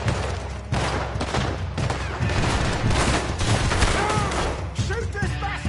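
Gunfire in the video game Red Dead Redemption 2: a dense, loud barrage of overlapping shots and booms runs continuously, with voices shouting through the shooting.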